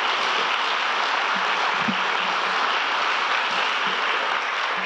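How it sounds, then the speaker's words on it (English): A round of applause from an audience at a Celebrate Recovery gathering, thanking the speakers. The clapping is even and continuous from start to finish, moderately loud, with no voices over it. "I just want to give them a round of applause"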